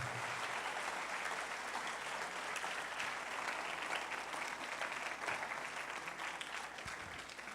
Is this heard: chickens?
no